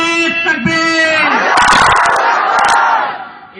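Rally crowd at a political speech in Jalna roaring a Takbir slogan response, a massive unified shout swelling after a man's amplified call, loud and close, then fading.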